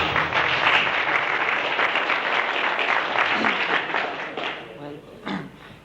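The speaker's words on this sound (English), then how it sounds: "He rode into Merthyr with a police escort to be greeted by a crowd of thousands." A crowd of thousands in Merthyr greets a British featherweight boxing champion arriving with a police escort, a steady loud wash of cheering and applause that thins toward the end.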